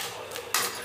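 Corn kernels pop in an oiled pan on the stove, two sharp, distinct pops standing out close and clear over a quiet background hiss.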